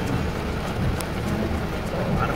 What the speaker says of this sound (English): We've had a lot of rain.